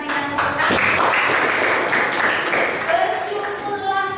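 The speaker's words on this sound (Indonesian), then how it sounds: "kita berikan tepuk tangan" A classroom group claps together for several seconds, a dense, close burst of applause with voices chattering underneath.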